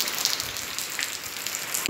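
Steady rain patters on surfaces outdoors in a village setting, a constant close hiss with scattered drip ticks and no voices.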